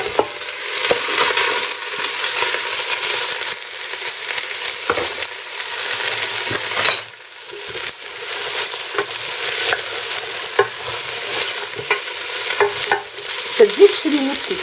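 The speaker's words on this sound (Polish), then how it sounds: "Zaczyna się już dosyć grzać, a więc wrzucam i mieszam." Dried lovage sprigs and vegetables stirred in a hot pan while making a homemade vegetable stock cube: a steady sizzle of frying with repeated scraping and clacking stirs, close and continuous.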